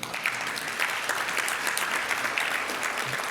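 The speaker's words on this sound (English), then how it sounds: "round of applause for Liam and Charlie" A Rotary meeting audience applauds two students, a dense, continuous round of clapping from a roomful of people that holds at an even level throughout.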